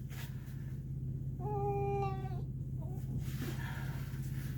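A pet cat named Minou being groomed without clipping gives one clear drawn-out meow over a steady low hum, with a few soft vocal sounds afterward.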